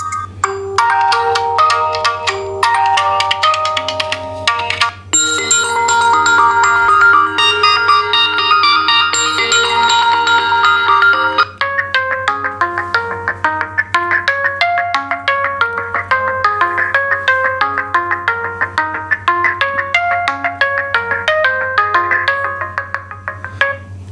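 A Realme 5 Pro smartphone plays a ringtone loudly through its loudspeaker, a bright, continuous electronic melody of chiming notes that changes tune partway through, heard alone over a low steady hum.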